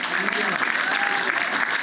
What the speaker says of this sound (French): On peut applaudir le Seigneur pour ça.